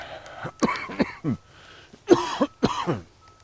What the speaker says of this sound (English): There you go, coughing again.